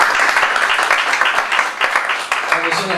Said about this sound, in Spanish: damos un aplauso al Señor.